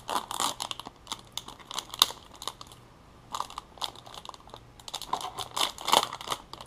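A plastic package of 4-inch gold glow mullet soft fishing baits is torn and crinkled open up close, giving bursts of crackling, tearing rustle with short pauses between them and no talk.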